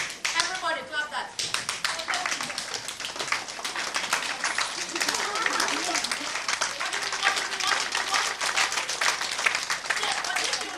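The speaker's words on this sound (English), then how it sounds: "Everybody clap that." A workshop group claps along to a Ghanaian rhythm in 12/8 time, the sharp claps dense and overlapping beneath a voice and lively background sound, keeping a fast pulse throughout.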